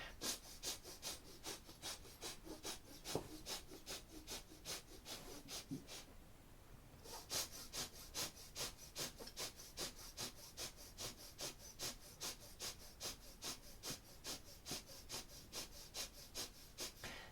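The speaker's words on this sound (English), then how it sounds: "Begin breath of fire." Yogic breath of fire in a kriya practice, with rapid rhythmic forceful exhalations through the nose. The quick even pulses repeat steadily, pause briefly, then resume at the same fast pace.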